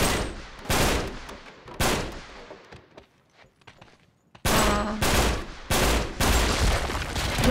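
Loud bursts of gunfire in Uncharted 3: Drake's Deception, a few sharp volleys, then a quieter gap with scattered small sounds, then a rapid run of repeated shots up close.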